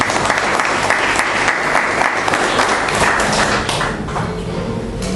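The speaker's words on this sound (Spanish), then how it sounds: "Démosle ese fuerte aplauso de bienvenida" A church congregation gives a loud, sustained round of welcoming applause, dense clapping filling the room steadily from start to finish.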